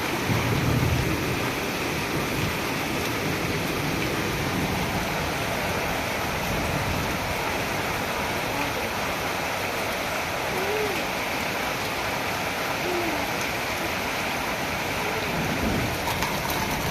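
Heavy rain pours steadily during a Kalbaisakhi storm, a dense, continuous roar of water with a faint low rumble underneath, no voices.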